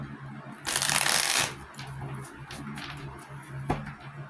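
Tarot cards are shuffled in a quick riffle, a dense papery flutter lasting under a second, followed by softer sliding and tapping of the deck, close and fairly loud with no talking.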